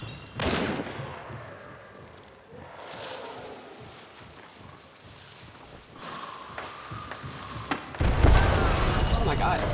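Explosions and gunfire in an online shooter video game, with booming blasts and bursts of shots rising and falling, a heavy blast near the end, under excited player talk.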